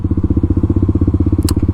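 A modded Kawasaki KLX300SM single-cylinder engine idles roughly and fast, a steady rapid thumping pulse up close, with a brief clack near the end.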